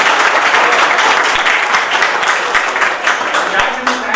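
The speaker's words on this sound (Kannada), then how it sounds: "ನಮ್ಮ ಹುಡುಗರಿಗೆ ಚಪ್ಪಾಳೆ." Close, loud hand clapping from former classmates and staff at a high school SSLC batch reunion, brisk and sustained, with voices mixing in as it fades toward the end.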